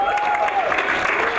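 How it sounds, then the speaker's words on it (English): Brief burst of audience applause at a school board of education meeting, a dense steady patter of clapping heard over a short moment with some voices mixed in. "let's give her another round of applause"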